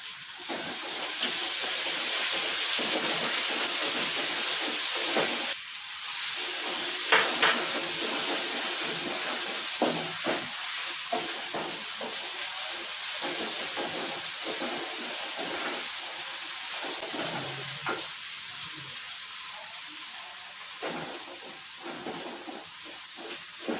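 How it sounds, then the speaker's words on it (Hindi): Steady loud sizzling hiss of fresh ginger and garlic frying in a hot pan, broad and continuous, with occasional clinks and scrapes, no voices. "अदरक लहसुन की बुनाई हो चुकी है"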